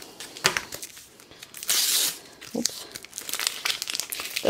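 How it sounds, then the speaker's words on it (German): Crinkling plastic packaging from Lego Jurassic World multipacks being torn open and unwrapped, a steady close run of crackles, rustles and sharp tears with a louder burst midway and no talking. "dann wollen wir die 4 schon mal auspacken"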